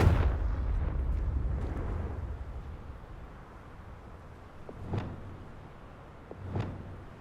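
Confringo explosion spell cast in a Harry Potter video game: a heavy blast booms up front, rumbling as it fades, then two sharper, smaller bursts follow a few seconds apart.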